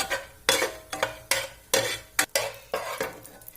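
Crushed nuts fry in a pan, stirred with about eight brisk, evenly spaced scraping strokes over a soft sizzle, close and distinct.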